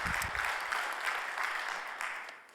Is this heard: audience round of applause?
yes